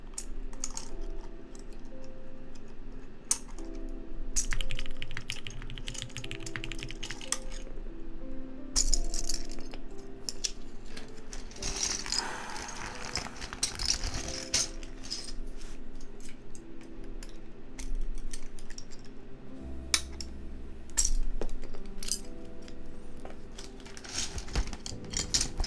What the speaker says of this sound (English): Should take off these keycaps first.